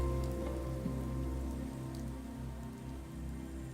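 Heavy rain pounds down continuously, a dense, steady roar of drops on surfaces with no voices.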